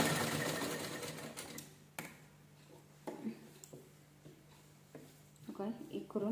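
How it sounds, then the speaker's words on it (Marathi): A sewing machine stitches old T-shirt fabric for a doormat, giving short, close bursts of quick mechanical clatter between pauses, with someone talking over parts of it. "ह्याच्यानं आपण स्टिच करून घेऊया."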